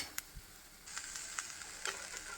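Bottle gourd fries in an oiled pan with a soft, steady sizzle, broken by a few light clicks and scrapes from stirring.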